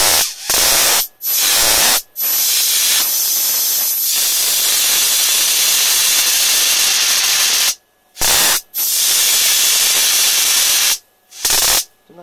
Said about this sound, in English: The corona of these two spark gaps just here is pretty cool.